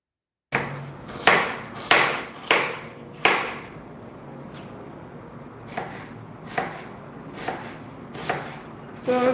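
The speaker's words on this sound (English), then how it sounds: "so we are cutting in the onions, or chopping our onion." A knife chops a red onion on a cutting board, striking in a series of sharp, close taps, fast at first and then spaced out, in a quiet kitchen while potato bhajias are being prepared.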